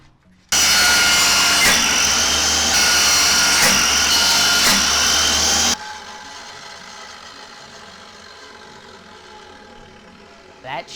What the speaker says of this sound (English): We gotta get the table saw out again. We're gonna have to rip a bunch of these.